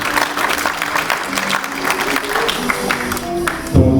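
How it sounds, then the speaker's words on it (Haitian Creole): A church congregation claps during a Sunday worship service, a dense patter of many hands applauding continuously at close range for several seconds before it thins out. "L'église applaudit le Seigneur pour toute sa action faite."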